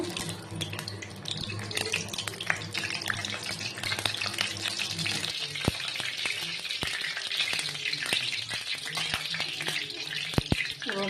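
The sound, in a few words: dried red chillies frying in hot oil for khichuri tempering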